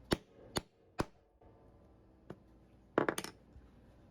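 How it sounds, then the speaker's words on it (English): A hammer strikes a sharp leather hole punch in a few loud, crisp hits, three spaced blows then a quieter tap and a quick cluster of impacts, close and alone. "when you hit it with the hammer, it punches a hole straight through"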